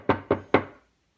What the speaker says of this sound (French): Émile frappe à la porte